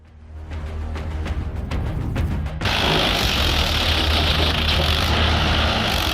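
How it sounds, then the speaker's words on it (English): A Mahindra 575 tractor's heavy engine rumbles steadily and grows louder, then a harsher, broader mechanical roar takes over as it hauls a huge load of sugarcane. "A Mahindra 575 tractor hauls an insane load of sugarcane."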